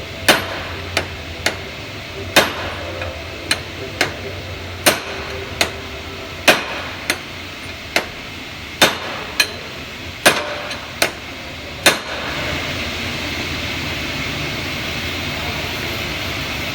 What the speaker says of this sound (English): I'm still hitting the axle from this and this point.